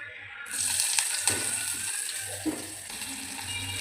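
Onions dropped into hot hair oil in a pan, a sudden loud sizzle that settles into steady frying crackle, with a few stirring clinks and scrapes, no talk.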